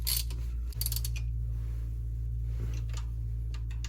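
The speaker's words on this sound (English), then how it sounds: "then we'll just take our hand ratchet and go ahead and snug them on down" A hand ratchet snugs down thermostat housing bolts on a Ford 351C/351M/400 V8 engine, giving a few close, brief clicking ratchet strokes over a steady low hum.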